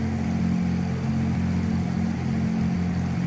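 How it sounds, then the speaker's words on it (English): A Beechcraft Baron B58 twin piston engine drones steadily in an FSX flight simulator game, with its pitch rising slightly as the power picks up. The tone is loud and continuous, with no talk. "You can hear the engine pick up a little bit."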